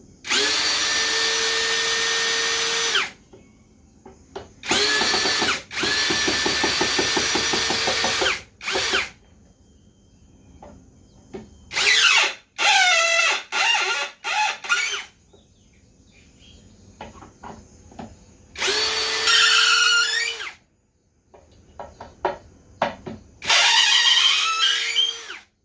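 MLHY 21v brushless cordless impact drill loosening bolts, several loud bursts of whirring motor and rapid hammering clatter separated by silent gaps, close up with no talk.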